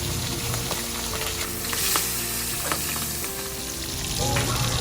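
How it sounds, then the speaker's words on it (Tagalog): Fish frying in hot oil for sweet and sour fish, a loud, steady sizzle and crackle held close throughout, with occasional sharper pops and spatters and no talking. "Ang una nating gagawin ay ipiprito natin ang ating isda"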